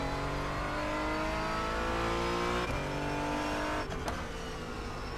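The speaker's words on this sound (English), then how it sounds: "You can hear the gear changes going on." A video game race car engine drones steadily at high revs, with two audible gear changes as the pitch drops and climbs again; no voices.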